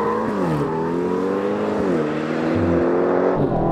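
An Aston Martin launching in a drag race against other Aston Martins, its engine roaring loud and close, rising in pitch through the gears with sharp drops at each shift.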